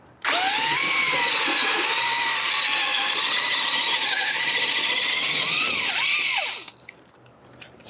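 A power drill with a 5/16 bit whines loudly and steadily at high pitch for several seconds, grinding through the head of a metal rivet on a 1987-1993 Dodge Dakota, its tone wavering before it cuts off.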